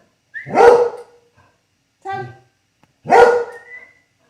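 A deaf dog barks at things passing a window indoors: two loud, close barks with a short, higher yelp between them, separated by silence.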